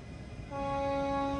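Venkatadri Express pulling out of Rajampet station, a steady horn-like tone rising partway through and holding loud and sustained over a low rumble of rolling wagons.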